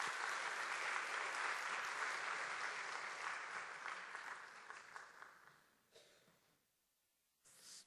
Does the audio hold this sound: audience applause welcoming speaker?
yes